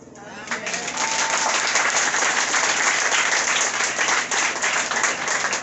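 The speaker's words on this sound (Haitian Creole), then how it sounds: "Applaudis très fort le président. Très fort. Un applaudissement royal." A church congregation applauds the president with loud, sustained clapping that builds quickly and holds steady, with crowd voices mixed in.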